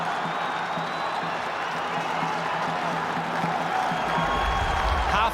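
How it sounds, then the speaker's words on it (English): Down supporters in the crowd at a 2011 All-Ireland SFC qualifier Gaelic football match against Cork, a steady roar of distant cheering and applause that swells slightly toward the end. "the Down crowd now trying to get behind their team"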